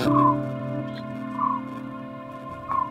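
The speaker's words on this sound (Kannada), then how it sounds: "ಫ್ರೆಂಡ್ಸ್ ಪಕ್ಷಿಗಳ ಸೌಂಡ್ ಕೇಳಿಸ್ತಿದ್ಯಾ?" Birds call at Nandi Hills with three clear, tonal, fowl-like cries at regular intervals, fairly close, over a steady harmonic drone in the background.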